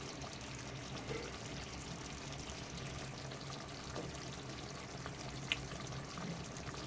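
Pomfret fish in mustard paste sizzles in a pan as curry leaves are added, a soft, steady frying crackle with a few small pops near the end.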